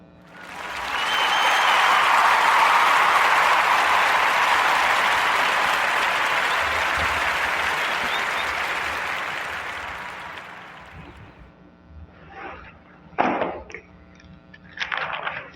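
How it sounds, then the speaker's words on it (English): A live podcast event audience breaks into warm applause, a full sustained round of clapping that peaks early and slowly fades out over about ten seconds, followed by a few scattered claps and knocks. "Let's give a warm narrative podcast round of applause for James Stapleton and Super Auto Detailing"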